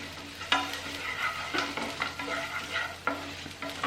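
Onions and turmeric fry in a pan for idli upma, a soft continuous sizzle broken by several distinct scraping stirs of a spoon against the pan.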